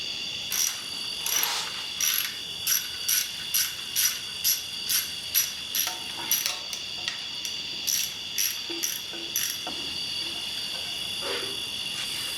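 A hand ratchet works the oil pan bolts underneath a Farmall Super A tractor, giving a close, loud run of rhythmic clicking strokes, about a dozen bursts in steady succession, before it trails off into sparser clicks.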